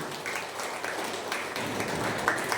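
Applause from a church gathering at a Teachers' Day event, a fairly soft, steady wash of clapping throughout with no clear speech on top.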